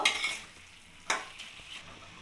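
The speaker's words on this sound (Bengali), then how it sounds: "এবার আমি ভালোভাবে নাড়িয়ে নেব" Fenugreek leaf curry stirred in a pan, a spoon scraping through it over a soft sizzle, with one sharper knock near the middle and quieter scrapes after, close and alone.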